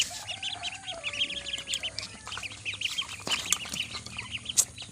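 Hungry ducklings waiting for soaked feed keep up a constant chorus of thin, high peeps close by, with rustling and a few clucking sounds mixed in.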